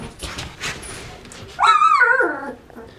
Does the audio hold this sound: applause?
no